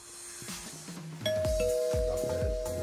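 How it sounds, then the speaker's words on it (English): A house doorbell chimes close by, a clear two-tone ding-dong with long ringing tones that sustain and overlap, preceded by faint footsteps and handling noise. "Let's go ring the doorbell."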